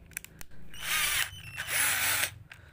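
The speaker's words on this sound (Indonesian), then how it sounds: "Coba kita ini buat obeng ya" A budget cordless battery drill used as a screwdriver gives two whirring bursts of just over half a second each, close by, preceded by a few light clicks of handling.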